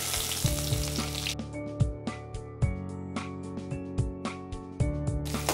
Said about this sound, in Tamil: இப்போ நம்ம வெங்காயம் கொஞ்சம் போட்டுக்கலாம்.